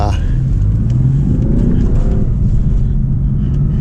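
BMW M4 F83 convertible with a dual-clutch gearbox downshifting to first and pulling away on bumpy roads, a loud steady engine drone rising in pitch inside the cabin, with a voice talking over it.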